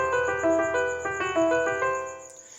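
A hip-hop drum pattern built in FL Studio, with kick and 808 bass punching under a sustained melodic piano line, steady and close, with no voice.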